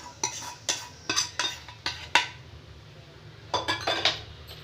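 Bisi bele bath in a pot is mixed after tempering is added, with a series of clinking, scraping stirs from a metal spoon in uneven bursts, a quiet pause, then more strokes, with no talk.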